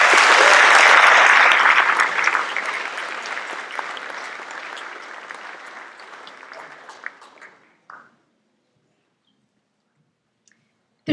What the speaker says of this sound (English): may we please have a round of applause for all of the Seal of Biliteracy confirmed students.